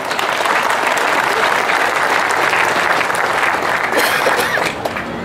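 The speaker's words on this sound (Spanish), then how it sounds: "Un aplauso, compañeros." Audience at a forum on the right to strike in Mexico breaks into loud, sustained applause, a dense wash of clapping that holds steady and fades slightly at the end.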